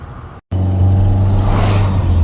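A Ford Ranger truck engine idles steadily after new spark plugs are fitted, a close, even low hum that resumes after a brief cut and holds smooth to the end.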